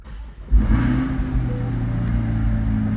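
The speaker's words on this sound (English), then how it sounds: "Go ahead and start the car, push button start." A red 2020 Chevrolet Corvette Stingray coupe with 2LT trim fires up by push-button start, a quick crank and roar settling into a steady, deep idle close by.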